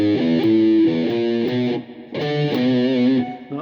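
A distorted electric guitar plays a blues riff in a study of a song, with loud, close, repeating chugging notes in two phrases separated by a brief pause.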